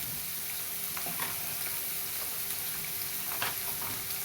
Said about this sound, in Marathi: चांगलं परतायचं